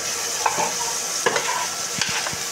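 Chopped greens and small radishes fry in a pan, a steady close sizzle broken by a few scraping stirs.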